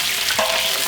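Curry leaves frying in coconut oil, a steady, loud, close sizzle with a brief crackle partway through.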